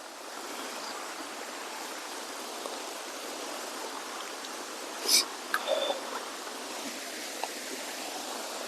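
Water rushes steadily in a flowing stream, a continuous broad hiss with a brief splash partway through and no voices.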